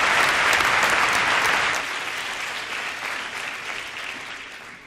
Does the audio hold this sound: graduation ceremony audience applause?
yes